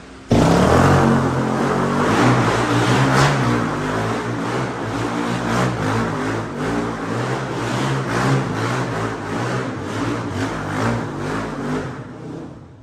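A Suzuki LTZ400 quad runs on a test ride, its engine droning loud and close with a steady throb and rising and falling revs as it circles.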